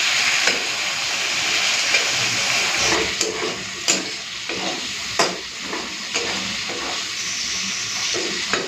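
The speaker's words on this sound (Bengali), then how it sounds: "প্রথমে চিংড়ি মাছটাকে ভেজে নিই" Prawns frying in hot oil give a steady, loud sizzle throughout, broken by sharp spitting pops and crackles.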